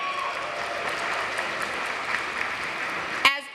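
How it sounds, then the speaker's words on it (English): Sustained audience applause for Natomas High School, dense steady clapping filling a large room, ending abruptly with a brief clatter. "Can we please give a big round of applause for Natomas High School"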